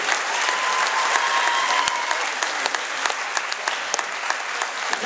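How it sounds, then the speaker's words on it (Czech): Sustained applause from the crowd honouring the coaches at a men's artistic gymnastics national championship in Brno, steady and fairly loud throughout with dense clapping. "Potlesky pro trenéry."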